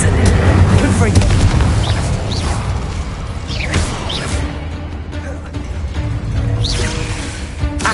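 Explosive Confringo curse in Hogwarts Legacy, repeated booming bursts with whooshing spell swishes amid constant rumbling combat noise, a voice speaking at times.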